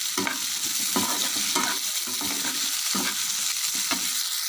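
Green chillies sizzling and crackling in hot oil, with a spoon stirring and scraping the pan in short bursts.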